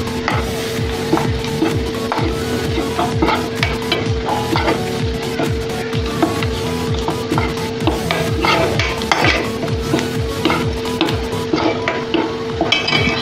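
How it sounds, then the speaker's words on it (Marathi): Gram flour roasts in a pan while being stirred constantly, a continuous scraping and soft sizzling with rhythmic spoon strokes against the metal, close and steady throughout. "म्हणजे मस्त पीठ आपलं भाजून निघेल"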